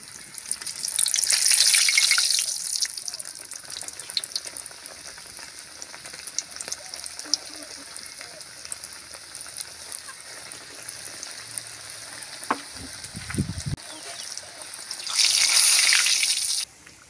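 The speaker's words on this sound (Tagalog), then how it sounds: "Prito na natin yung ating pate." Homemade burger patties fry in hot cooking oil, a crackling sizzle that swells loudly at the start, settles to a quieter steady fizz, then flares up again near the end, with a few clunks of handling midway.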